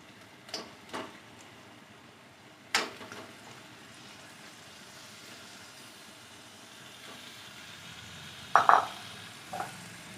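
Country chicken meat being fried and stirred in a spice paste, a quiet low sizzle with a few sharp spatula scrapes and knocks against the pot, including a louder pair of hits near the end, no speech.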